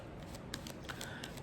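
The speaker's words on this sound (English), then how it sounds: "One more shuffle, and then I'm going to cut the cards." Tarot cards being shuffled by hand make soft, quiet riffling and flicking, with a few sharper snaps spread across a short stretch.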